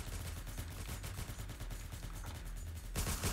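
Rapid automatic gunfire from a gun in a Roblox game, a continuous rattling stream of shots, close and steady, ending in a brief louder burst of noise.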